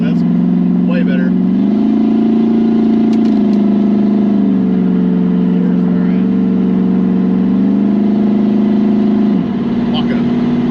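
Chevrolet Camaro engine droning loud and steady from inside the cabin, its pitch stepping up and down as gears change, with a sharp drop near the end.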